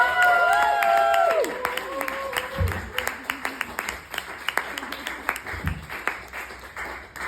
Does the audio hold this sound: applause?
yes